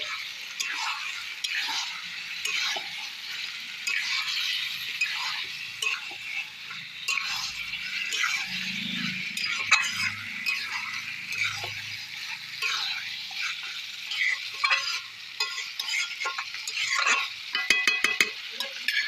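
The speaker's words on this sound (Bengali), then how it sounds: "স্বাদ মতো লবণ দিয়ে নাড়াচাড়া দিয়ে" Mutton curry with salt being stirred in a pot, with a continuous soft sizzle and repeated scraping, ticking taps of a spoon against the metal, close and steady throughout.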